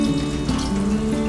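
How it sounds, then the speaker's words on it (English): Water pours steadily into a food processor bowl, a soft trickling stream with a faint ringing tone, fairly quiet and close. "And then 3/4 of a cup of water."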